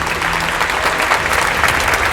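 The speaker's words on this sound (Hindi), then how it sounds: "सबसे बड़ी धमाकेदार तालियां आप सबके लिए होनी चाहिए" Audience at an anniversary event applauding loudly, dense continuous clapping from a big crowd, close and steady for the whole short stretch.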